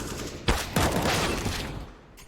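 Gunfire from Counter-Strike on the Inferno map during a professional esports match, two sharp close bursts in quick succession followed by rattling shots that fade out, with no voices.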